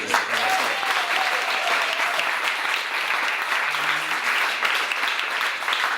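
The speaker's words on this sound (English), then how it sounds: "can you clap this man, because he actually made the whole thing happen" Sustained audience applause at a fringe theatre award event, a dense steady wash of clapping from a crowd filling the room at even loudness throughout, with no talk over it.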